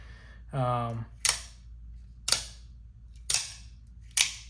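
A Gen 3 Combat Troodon spring-powered toy blaster fires four sharp, snappy shots at roughly one-second intervals, close up, after a short mechanical priming buzz.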